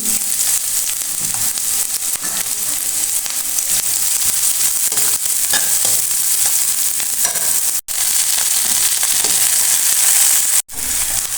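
Whole cumin, chopped onion, garlic and chili frying in a hot pan, giving a steady, loud, close sizzle with light stirring scrapes that runs unbroken except for two brief dropouts. No one speaks.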